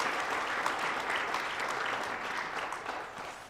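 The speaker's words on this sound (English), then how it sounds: "give these young men just a round of applause for how they reacted, how they played" Steady, fairly faint applause from a banquet audience honoring a high school football team, an even wash of many hands that eases slightly toward the end.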